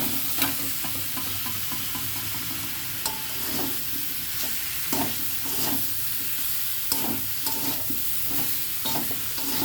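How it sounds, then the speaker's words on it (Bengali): Masala spice paste frying in a pan while being stirred, a constant close sizzle with repeated scraping strokes of a spoon at an irregular rhythm, no talking. "এটা নেড়ে চেড়ে একটু মশলা কষে নিলাম"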